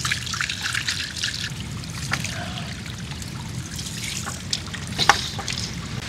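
Steady trickle of water into a tipping container with small drips and splashes, a continuous liquid dribble running close by with a few brighter spatters.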